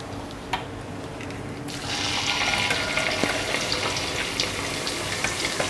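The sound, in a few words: hot oil bubbling in pan for homemade hair oil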